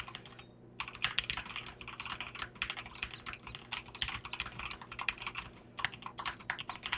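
Keys clack steadily on a computer keyboard during a mechanical-versus-membrane comparison, a brisk, close run of individual keystrokes over a low background hum, with no voices.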